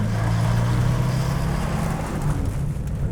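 A 2021 Ferrari Roma driven through pouring monsoon rain in India, heard from inside as a steady low engine drone and road roar under a wash of rain noise, loud and continuous with no speech.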